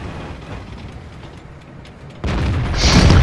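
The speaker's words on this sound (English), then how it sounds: "the reverberating, bone shuddering noises of artillery, like big shells landing next to you" Artillery shells landing close by in a tank battle game featuring the T-34-85, a heavy rumbling impact that swells abruptly out of quieter battlefield ambience and keeps reverberating.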